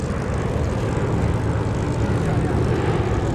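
B-17 bomber Sally B flying a display at Duxford, its piston engines and propellers making a steady, loud, continuous drone, with a commentator's voice faintly underneath.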